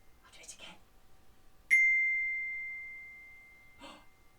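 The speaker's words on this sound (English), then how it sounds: "If you said chime bar, you were right." A single chime bar note is struck, ringing as a clear pure metallic tone that decays slowly over a couple of seconds, with faint breathy voice sounds before and after.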